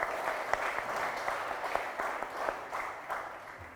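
Audience at a media fellowship graduation ceremony in Uganda gives a round of applause, an even, continuous wash of many clapping hands held at moderate loudness for several seconds.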